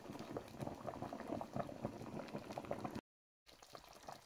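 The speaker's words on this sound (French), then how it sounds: "Je vais laisser la sauce bouillir tout en la surveillant." A pot of peanut sauce bubbles at a steady boil, a soft continuous burble of popping bubbles heard up close, broken by a brief cut to silence before the bubbling resumes.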